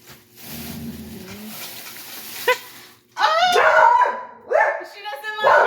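A dog indoors gives a few sharp yips and whimpering barks, close and moderately loud, with a person talking around them.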